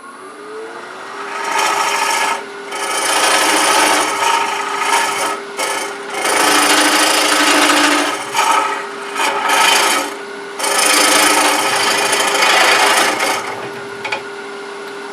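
A hollowing tool cuts into a box elder hollow form spinning on a wood lathe, giving loud raspy scraping in repeated bursts of a second or two, separated by brief pauses, with a steady hum running underneath.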